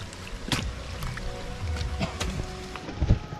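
Water flows into a bathing pool for geese, loud and close with sloshing, splashing bursts and a sharp knock near the end.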